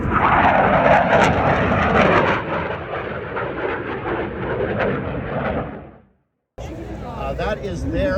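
A CF-18 Hornet jet roars past at a Toronto air show, a loud broadband engine rumble that swells, then fades away before a brief silence and returning crowd and ambient noise.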